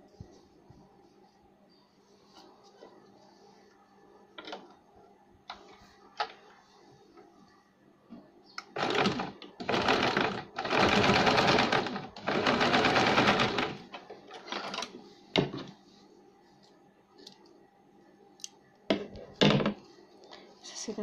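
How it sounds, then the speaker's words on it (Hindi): A sewing machine stitches a baby cap in short, close bursts, with one longer run in the middle, and soft handling sounds and a voice in the quieter stretches. "यहाँ पे सिलाई लगाएंगे।"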